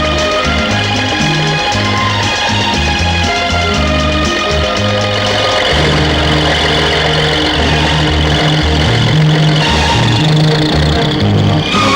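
A tractor stuck while ploughing a field, its engine revving and labouring with a loud, steady, fluctuating drone that rises and falls in pitch for the whole stretch.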